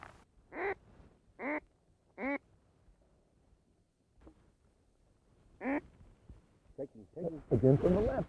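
Ducks on the Texas coast quack in loud, distinct bursts: three evenly spaced calls, a pause, then more quacks and a louder flurry at the end, with a little talk mixed in.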